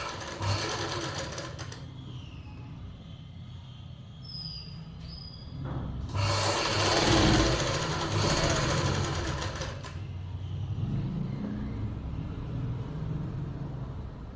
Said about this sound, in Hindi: इसको ऐसे ही सिलाई लगाएं।